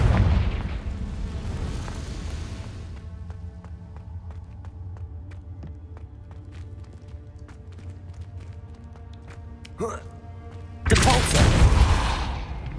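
Fiery blasts from the Confringo spell in Hogwarts Legacy: a loud rushing explosion opens, then a quieter stretch of faint ticking, and a second roaring fire burst erupts near the end.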